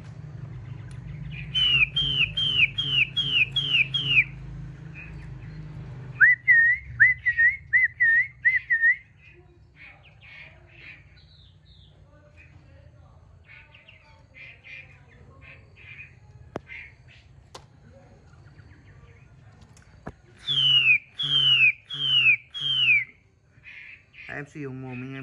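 Purebred Chinese hwamei songbirds deliver loud, rapid whistled phrases in repeated bursts, with sustained trilling runs and quieter chirps between them, close to the microphone over a low background hum.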